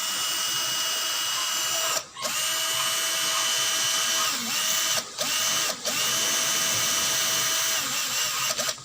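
A DCA cordless hammer drill in gear 2 drills into concrete, a loud continuous whine and rattle that cuts out in three brief pauses before starting again; no talking.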